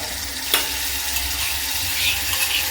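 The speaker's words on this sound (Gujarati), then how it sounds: "આને બધું ટમેટા હળવા હરખા ચડી જાય ત્યાં સુધી એને સાતળવા દેવાના છે ઘીમાં." Tomatoes sautéing in ghee for dal fry give a steady, close sizzle and frying hiss, with a faint stir or scrape near the start and no talking.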